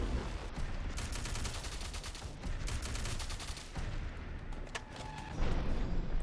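Rapid bursts of shotgun fire from a modded burst shotgun in Fallout 4, the shots coming in dense, repeated volleys over nearly continuous battle noise, with a louder cluster near the end.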